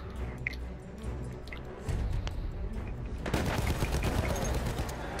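Gunfire in Battlefield 1, distant thumps and scattered shots giving way to louder, rapid bursts and booms that fill the second half, with no talk over them.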